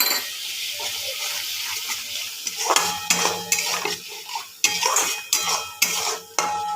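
Chhana stirred into spice paste in a pan for potoler dalna, a run of rhythmic metal scrapes and clinks of a spoon against the pan over a light sizzle, close and without speech.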